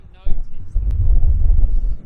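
Gusts of wind roaring through a rock tunnel on the Anglesey coast, a loud low buffeting rumble that hits the microphone hard, with a voice briefly heard.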